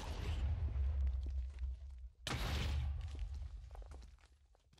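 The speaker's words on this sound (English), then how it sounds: "The Blasting Core causes an explosion that pushes back mobs when they attack you." In the Embers Rekindled game mod, a Blasting Core explosion knocks back mobs, heard as two loud booming bursts separated by a short gap, each fading into rumbling debris.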